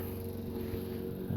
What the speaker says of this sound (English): You can hear the lawnmower in the background.